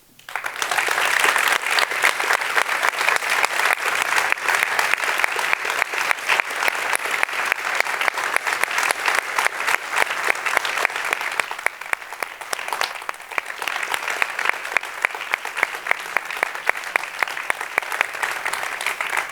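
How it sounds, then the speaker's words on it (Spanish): Sustained applause from a large crowd at an awards gala, dense and steady clapping that continues for a long stretch without pause. "Martínez Odriozola, capitana de Pinillesca, te enviamos este merecido aplauso."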